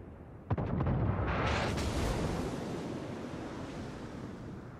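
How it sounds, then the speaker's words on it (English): Battleship shells from the Tirpitz land near an HMS Nelson class battleship in World of Warships: a sharp close blast, then a long roaring wash of splashing water that slowly fades. "Here comes some Tirpitz shells."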